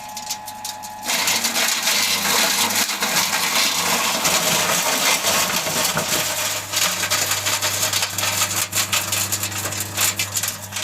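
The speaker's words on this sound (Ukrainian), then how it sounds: "Те, що залишилося, відкриваємо і кидаємо траворізку." An engine-driven grass shredder runs close by, producing a loud, steady mechanical roar over a low hum that continues unbroken throughout with no talking.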